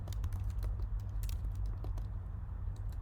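Rapid keystrokes on a computer keyboard, close and fairly steady, with uneven clicks and a low background hum.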